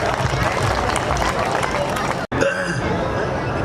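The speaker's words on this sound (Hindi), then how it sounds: "जोरदार ताली नसीब भाई के लिए" A crowd at an Ambedkar Jayanti gathering applauds to welcome speaker Nasib Singh, with dense, steady clapping and murmur that break off briefly and then resume.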